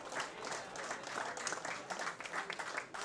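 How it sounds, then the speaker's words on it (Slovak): Spectators applauding at a second-league football match in Šamorín, Slovakia: steady, moderately faint clapping from the stands throughout, with scattered crowd noise and no clear talk. "Počujete to aj v ruchových mikrofónoch za potlesku."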